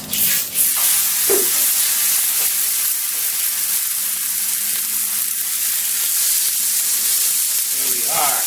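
A hamburger patty sizzles on an oiled Blackstone flat top griddle, a steady, loud broadband hiss that runs throughout with a few small pops and spatters.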